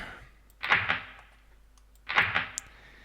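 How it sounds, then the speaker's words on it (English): A frozen-shut door in the video game Myst gives two short grinding, rattling thuds about a second and a half apart. Each one is clear and close, with quiet in between. "by the looks and sounds of it, it has frozen shut"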